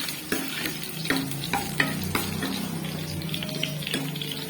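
Garlic sautéing in oil in a pan, a steady close sizzle broken by repeated scraping stir strokes roughly every half second, with a faint watery trickle underneath.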